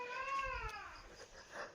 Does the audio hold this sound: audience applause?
no